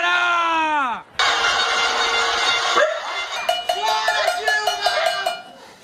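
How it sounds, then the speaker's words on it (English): Pot-banging protest in Brazil, with rapid repeated metallic clanks of pots being struck in a quick irregular rhythm. A voice and a sliding tone come first, then the clanking carries on through the crowd noise. "People were banging their pots, honking their horns."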